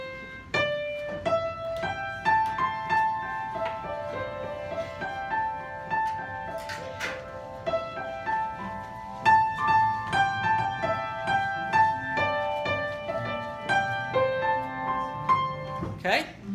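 A pentatonic scale without its fourth and seventh notes is played in a music class as a series of distinct pitched notes in a melodic run, ringing and overlapping at moderate volume, with faint background sound beneath.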